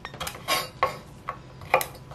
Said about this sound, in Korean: 냄비에다 물을 넣고 채반을 올렸습니다.